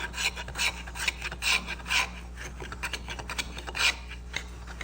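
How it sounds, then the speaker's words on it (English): Repeated rasping strokes of a narrow rabbet shoulder plane shaving a wooden tenon, about a stroke every half second, close and fairly quiet over a low background hum. "I can shave that tenon just a little bit."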